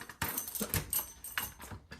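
A set of keys jangles at a wooden house, a few short metallic clinks and rattles close by in a quiet room, with a soft knock among them and no talking.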